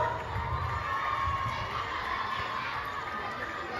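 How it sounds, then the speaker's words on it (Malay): The red house cheers at a school sports day around an 800 m race: a sustained roar of young voices shouting together from across the field, even in level from start to finish. "Sorakan dari rumah merah."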